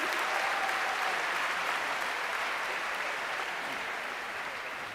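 Sustained applause from a large audience at a university commencement ceremony, a steady dense clapping that holds loud throughout and tapers only slightly toward the end, with no voices over it.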